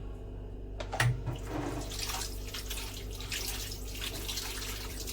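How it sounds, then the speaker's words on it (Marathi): Tap water runs and splashes steadily as something is rinsed under it, with a brief louder gush near the start. "आता आपण याला स्वच्छ पाण्याने धुवून घेऊ"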